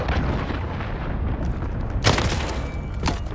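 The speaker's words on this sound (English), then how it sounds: "Cruise missile incoming!" A cruise missile strike in Call of Duty Modern Warfare multiplayer sets off a deep continuous rumble of battle, broken by sharp nearby blasts and cracks near the end.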